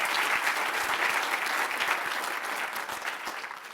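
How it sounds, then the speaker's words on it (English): A breakfast audience at a legislative event gives a loud, dense round of applause that continues without a break and fades slightly toward the end. "So one big round of applause to wake us up this morning."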